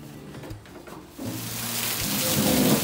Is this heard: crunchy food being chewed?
no